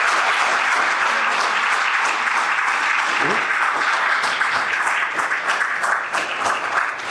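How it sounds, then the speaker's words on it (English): Sustained round of applause from an audience at a renovation celebration for a Catholic Charities family center, steady clapping filling the room throughout, with a brief voice breaking through near the middle. "So let's give Mike a round of applause."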